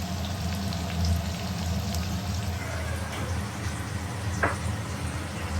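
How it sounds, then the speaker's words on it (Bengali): Salted, chopped onions fry in a pan for chicken posto, giving a steady, moderately loud sizzle with soft crackles and a brief spatter toward the end. "এই কুচুনো পেঁয়াজ একটু ভাজা ভাজা হবে"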